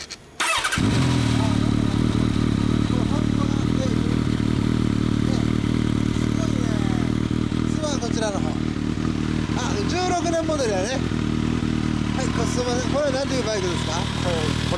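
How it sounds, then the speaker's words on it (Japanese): A 2016 Kawasaki ZRX1200 DAEG with a Power Box exhaust starts up and settles into a loud, rumbling idle with occasional revs, close by, while people chat over it. "エンジン音聞かせてもらえますか？"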